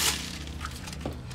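Dry bird grain is poured out for pet pigeons: a short rattling, crunchy burst up close at the start, then faint scattered clinks and rustles.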